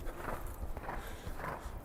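Horse hooves thud in a steady clip-clop rhythm during a riding lesson gallop in an equestrian arena, muffled and at moderate distance.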